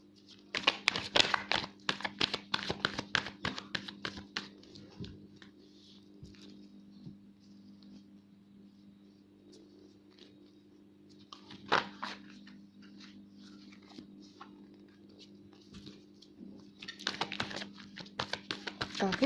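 Tarot cards are shuffled in quick riffling bursts of soft papery patter near the mic, clustered at the start, middle and end with a quiet hum between.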